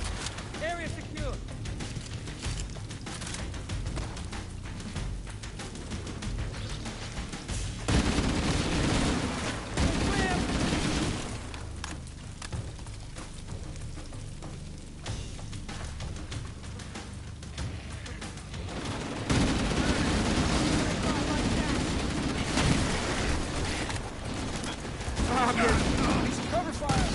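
A firefight in the Halo Campaign Evolved video game, with dense rattling bursts of gunfire that rise and fall in waves, close and fairly loud, while voices talk over the shooting.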